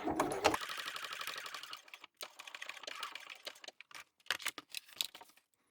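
A sewing machine stitches waterproof canvas binding in short, rapid bursts, a steady whirring run at first, then stop-start stitching with pauses, close and alone without talk.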